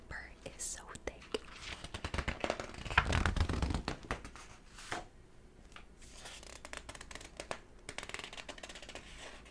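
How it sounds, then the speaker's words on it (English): Thick paper pages of a book are flipped and handled up close, giving a series of soft swishes and crisp rustles, with whispering heard in between. "I'm gonna just read a few passages and flip some pages, of course."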